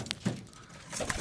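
Homer and roller pigeons in a loft give short, soft coos and faint rustles, close by and intermittent.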